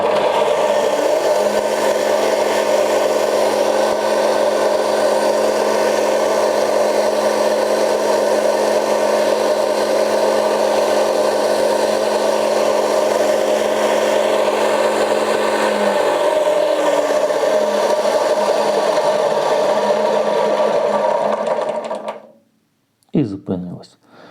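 A Vitals BG 1535BDbl bench grinder with a belt grinder attachment runs loudly and steadily with a constant motor hum and whine. Its tone drops partway through, then it winds down to a clattering stop near the end.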